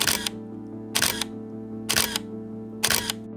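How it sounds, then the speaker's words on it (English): A Canon 5D Classic DSLR fires its shutter four times at an even pace about a second apart, each a crisp close mechanical clack over a steady low background hum. "The shutter sound too is very satisfying."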